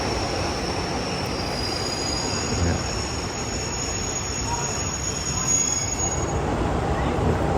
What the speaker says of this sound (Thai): รถไฟก็เริ่มออกจากสถานีหัวหินแล้วนะครับผม